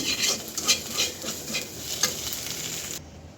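Steady sizzling of an egg frying in a pan, with soft stirring scrapes and occasional louder pops, close up.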